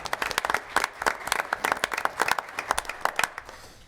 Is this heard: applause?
yes